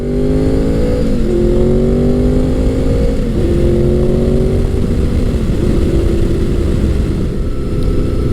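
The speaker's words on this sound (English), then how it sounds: "This has to be one of the best sounding motorcycles ever produced." A 1998 Honda VFR800 motorcycle engine hums loudly and steadily while riding, its pitch climbing through gears in a few smooth rising sweeps with shifts between them.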